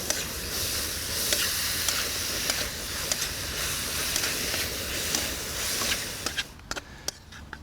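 Crispy pork belly with holy basil, garlic and chili is stir-fried in a pan, giving a loud continuous sizzle with scraping stirs. The sizzle drops away near the end, leaving a few sharp clinks.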